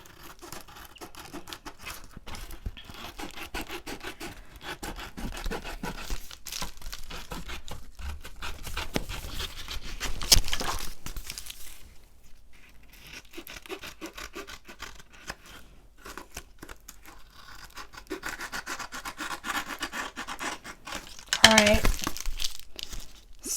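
Shipping materials being cut by hand for a handmade journal cover, giving a steady run of crinkling, rasping snips close by, with a louder burst near the end.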